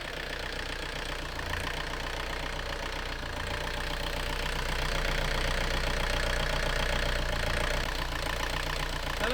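A boat engine idles steadily with a deep, even rumble and a low knocking pulse while the throttle is worked and the propeller may or may not be turning. It is loud and constant throughout, with no talk.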